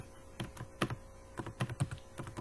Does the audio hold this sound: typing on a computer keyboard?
yes